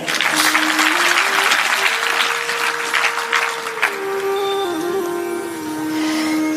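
Audience at a devotional satsang and Bhagavat katha discourse applauding loudly in dense clapping that fades after a few seconds, with a sustained sung or harmonium tone running underneath and continuing alone afterward.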